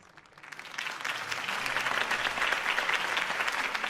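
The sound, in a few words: crowd applause at campaign speech in Batman Telltale video game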